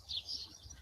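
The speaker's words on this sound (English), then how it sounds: "You're enjoying hearing the birds." Short burst of small birds chirping outdoors, a couple of high bright tweets in quick succession over a low steady background hum, fairly faint and with no voices.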